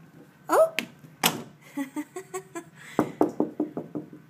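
Knocking on a door mixes with brief voice sounds early on, then a steady series of about seven firm knocks closes the passage at close range.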